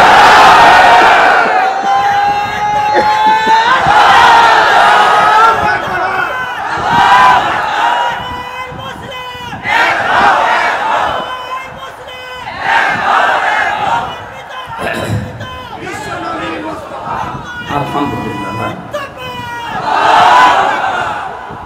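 Large crowd at an outdoor Islamic religious sermon roaring the takbir response in unison, loud sustained massed shouting with repeated swells and chanted waves filling the whole stretch.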